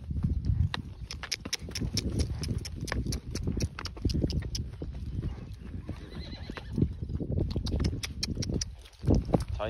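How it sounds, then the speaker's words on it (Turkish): Horses walking on a rural trail outdoors, hooves clip-clopping in a steady close rhythm, with occasional whinnies and people talking quietly over the hoofbeats. "Atlar burada gitmek istemiyor."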